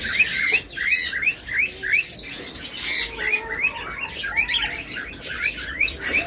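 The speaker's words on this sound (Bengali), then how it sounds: "তারপরে এখানে রয়েছে একজোড়া ককাটেল" A pair of cockatiels calls in repeated sharp, rising chirps and squawks, close and loud, in a steady rhythm for the whole stretch with no voices.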